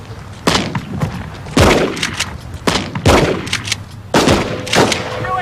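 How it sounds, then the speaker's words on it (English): Police fire a shotgun at a distance of about 125 yards, four heavy booming shots spaced roughly a second apart, loud and close, each followed by a short echoing tail, with no talk. "We were shooting a number of shots, but because of the distance of 125 yards with the shotgun"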